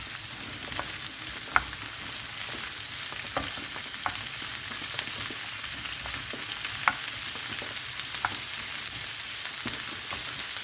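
Onions and bell peppers sautéing in a pan, a constant close frying hiss dotted with scattered pops and light stirring clicks over a long steady stretch.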